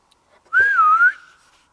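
A person whistles a single smooth, wavering note for about half a second, close and clear, copying a whistle, with no talking.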